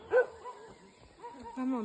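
A dog gives a short bark and a couple of yips on a hiking trail, close by, with people talking nearby.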